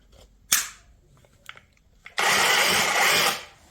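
Parkside cordless drill powered by an Einhell battery through an adapter, running in auto rotation mode: a few short clicks and taps, then a loud, steady motor whir for about a second before it stops, heard up close with no talking.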